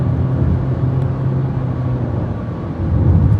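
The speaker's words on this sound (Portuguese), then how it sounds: "quando você começa a andar entre 120, 130, 140, o motor grita bastante" The 1.5 i-VTEC engine of a 2026 Honda HR-V EX cruises at highway speed, a continuous low roar with road rumble from inside the cabin, steady throughout.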